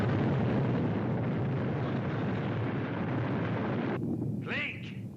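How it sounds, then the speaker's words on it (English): Avalanche from a 1971 Hogan's Heroes TV scene, a loud, continuous roaring rumble that holds steady for several seconds, then a voice cuts in over it near the end as the rumble fades slightly. "You have triggered the avalanche."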